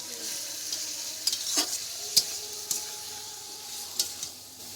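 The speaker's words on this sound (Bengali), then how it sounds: "তো এখন মাংসটা অনেকক্ষণ ধরে কষাতে হবে" Meat being sautéed slowly in a hot pan gives a steady sizzle, broken by sharp scraping clicks as a spatula stirs it every second or so. Close and moderately loud, with no talking.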